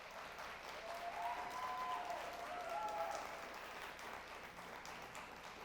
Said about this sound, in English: one more round of applause for these great educators